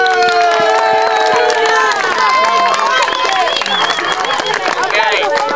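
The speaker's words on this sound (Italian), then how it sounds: "Un applauso per la fame." A summer camp crowd of children and adults claps and cheers together in a lively burst of applause, with shouts and voices mixed throughout.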